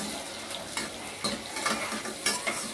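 Onions sautéed for tomato rice, stirred in a hot pan with a steady close sizzle and repeated scraping strokes of a spoon, moderately loud.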